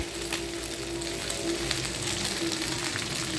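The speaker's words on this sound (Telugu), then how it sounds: "దీన్ని ఒక రెండు నిమిషాలు ఫ్రై చేస్తారండి ఉల్లిపాయ మగ్గే వరకు" Onions and green chillies fry in a pan with a dense, continuous close sizzle and faint stirring, and no voices are heard.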